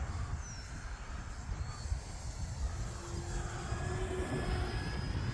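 An FMS Zero RC model airplane flies at full throttle in windy weather, a continuous moderately distant engine drone with a slowly shifting whine as it climbs, alone without talk.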